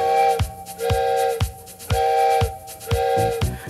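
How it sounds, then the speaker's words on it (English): A train whistle sounds four times in a steady rhythm, each blast a sustained harmonic tone separated by short rhythmic thumps, with no talking. "Listen to the whistle blow 4 times."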